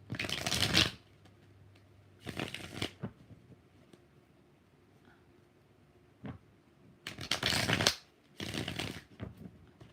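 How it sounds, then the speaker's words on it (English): Tarot cards are shuffled in four separate bursts, each a brisk riffling flutter lasting about a second, close and fairly loud, with quiet pauses between them. "3 more shuffles"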